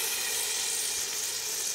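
Cumin seeds and ginger sizzle in hot cooking oil with a steady, close, bright frying hiss that holds evenly through the short moment.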